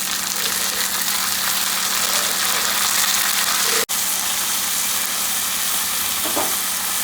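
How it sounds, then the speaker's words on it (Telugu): Washed sorrel leaves hitting fried onions in a hot pan while cooking a sorrel tomato curry, giving a loud, close, continuous sizzle that cuts out for an instant midway, then carries on steadily. "తర్వాత చుక్కకూర మంచి కడుక్కొని వేసుకుందాం."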